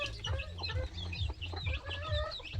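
A hen with her chicks gives soft, repeated clucks close by, a steady run of low, rhythmic calls with no talking.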